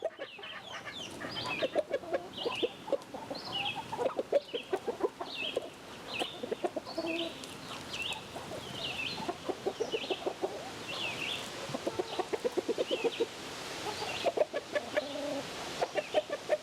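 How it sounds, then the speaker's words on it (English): A large Chantecler rooster and hens cluck and call continuously at moderate distance, with repeated short squawks and chatter forming an uneven, busy farmyard rhythm. "That's a large Chanticleer rooster in the gateway there"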